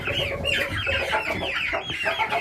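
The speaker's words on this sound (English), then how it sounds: "These are all of CP's chicks that she had in the incubator and hatched them" Young incubator-hatched chicks cluck and chirp as a busy, close flock, with overlapping calls forming a continuous chatter and no pause throughout.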